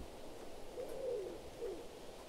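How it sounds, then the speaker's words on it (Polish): An owl in the wilderness of the video game Shelter 2 gives a few soft, low hoots in a short run, set against a steady ambient wind-like background with no talking. "O, sowę słyszę."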